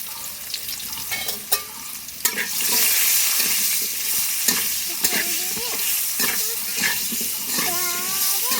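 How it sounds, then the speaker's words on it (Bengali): Potatoes frying in hot oil with salt and turmeric, a steady sizzle with stirring clatter and knocks, some watery splashing and faint background voices and sounds, in a village home kitchen. "তেল খুব ভালোভাবে গরম হয়ে গিয়েছে এরপরে আলুটা ভেজে নিতে হবে"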